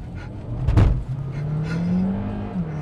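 A brand-new 2021 Seat Leon FR plug-in hybrid drives past close by, a loud whoosh of engine and tyre noise peaking early, then a steady drone with a rising engine tone.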